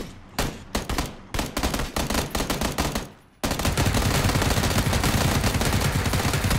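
Gunfire in the battle royale game PUBG: a run of separate loud shots for about three seconds, then a sudden, continuous dense burst of rapid automatic fire that keeps going to the end.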